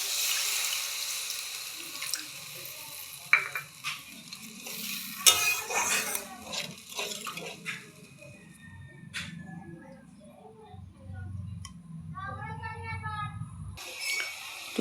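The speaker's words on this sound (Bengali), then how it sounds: "তো এতে দিয়ে দেবো আমি পরিমাণ মতো জল।" Water poured into fried spice paste in a pan for a low-spice fish curry, with scattered clinks of utensils and a rushing pour and sizzle in the middle, fairly quiet, partly under a voice.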